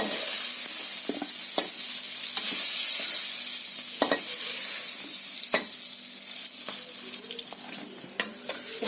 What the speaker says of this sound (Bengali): এইভাবে আমি ক্যাপসিকামটা ভেজে নিই।